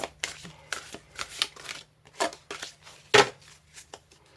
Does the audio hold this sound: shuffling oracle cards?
yes